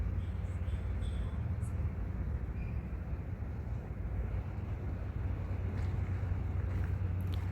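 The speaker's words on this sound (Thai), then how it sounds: "เรือรับส่งนักท่องเที่ยว" A tourist ferry boat crosses a lake, its engine a steady low drone beneath constant water rush and wind buffeting the microphone, continuous and fairly close for the whole stretch.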